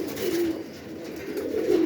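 Crested pigeons in a dovecote give low, repeated cooing calls, two clear coos standing out over a soft background murmur, without speech.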